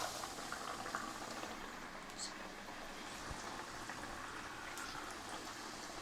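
Chicken pieces for a crispy zinger burger sizzle in hot oil in a home kitchen, a steady, dense crackling hiss that runs unbroken from start to finish at an even level.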